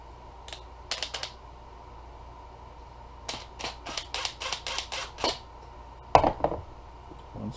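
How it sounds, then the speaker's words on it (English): Screws being driven back into a roller shade mechanism during a repair, a series of quick close metallic clicks and ratcheting taps in short irregular bursts, alone without talk. "Now we're going to put the screws back in."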